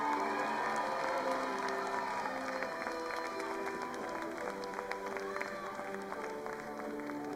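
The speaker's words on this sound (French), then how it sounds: "Sous vos applaudissements, le public du hashtag festival." Moderate applause and light cheering from a festival crowd for cosplayers on stage, mixed with a steady musical hum and crowd noise.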